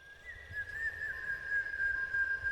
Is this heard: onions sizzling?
no